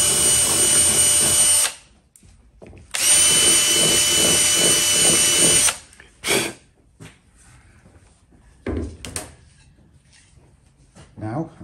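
A power drill whines loudly in two long bursts, enlarging a hole to 5.5 mm for a 5mm bolt during crash damage repair on a ZX12R motorcycle, followed by quieter short knocks and handling noises.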